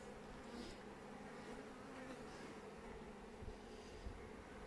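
Steady, low honeybee buzzing at a beehive during a beekeeping inspection, continuous and fairly faint, with a soft hum of several bees close by.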